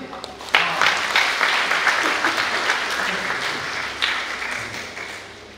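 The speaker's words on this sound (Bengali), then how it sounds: "সবাই তালি মারি" An audience at a Christian festival worship gathering claps to welcome a singer, a dense burst of applause that starts sharply, holds steady, and gradually fades toward the end.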